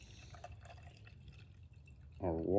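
Water trickles and drips into a container being filled for a cast tomahawk quench, faint and soft, then swells into a louder, rising pour near the end.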